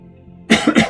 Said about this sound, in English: Sorry for the coughing and throat clearing.